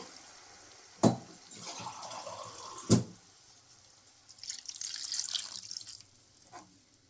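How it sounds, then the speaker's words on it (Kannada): Water poured from a glass into a cooking pot of spicy chilli chicken, about one and a half to two glasses: two sharp knocks, then a soft splashing pour near the end. "ಇವಾಗ ನೀರು ಹಾಕ್ಕೊತಾ ಇದ್ದೀನಿ."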